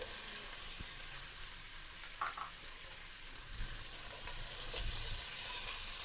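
Chicken with masala and onions frying in a pan, a steady low sizzle and hiss going on throughout with a few soft stirring knocks, fairly quiet and with no talk.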